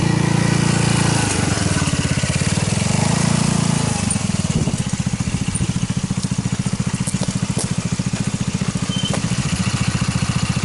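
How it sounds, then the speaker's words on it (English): An American Sportworks Carbide 150cc go-kart engine runs steadily throughout, a close, loud rapid chugging with a slight dip in pace partway through, alone without talk. "There's a carbide go-kart. Pretty rugged piece of equipment."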